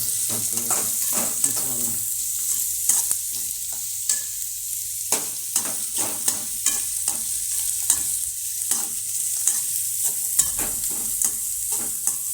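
Soaked flattened rice (avalakki) being stirred in a pan with onions, giving repeated scraping stirs with a soft sizzle of frying underneath, close and steady with no talking.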